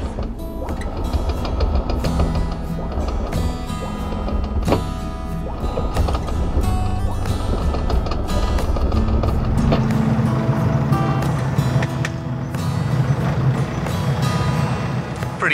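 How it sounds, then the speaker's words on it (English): A sailboat's anchor is hauled up with the engine warming underneath, producing a continuous mechanical grinding and rattling of gear and chain that carries on loudly throughout. "And I'm going to bring the anchor up."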